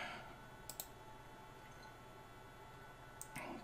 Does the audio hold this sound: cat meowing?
no